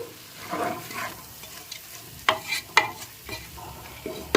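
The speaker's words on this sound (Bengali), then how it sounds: "দিয়ে দিচ্ছি ধনে পাতা কুচি একবার খুব ভালো করে নেড়েচেড়ে মিশিয়ে নিচ্ছি" Chopped coriander leaves being stirred into tomato rice in a pan, a few sharp spoon clacks against the pan over soft shuffling and light sizzle, close and alone without voices.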